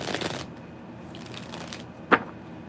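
Tarot cards being shuffled by hand: a soft, continuous riffling and sliding of card stock, close to the microphone, with one brief sharper snap near the end.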